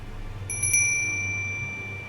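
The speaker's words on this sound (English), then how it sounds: "the unmistakable sound of the soul-calling bell." The soul-calling bell from the video game Elden Ring gives a single bright, clear chime that rings out and lingers over a low, quiet background hum, with no voices.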